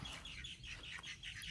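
Chickens at a chicken farm cluck and chirp in a dense, continuous chorus of overlapping calls, fairly close.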